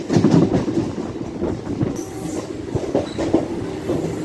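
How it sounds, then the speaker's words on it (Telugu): A Hyderabad MMTS local electric train pulls into Bharat Nagar station, with a steady loud rumble of rolling wagons, rhythmic wheel clatter over rail joints and a brief high squeal of wheels. "ये स्टेशन, ये ट्रेन स्टेशन भरत नगर को पहुंच चुकी है."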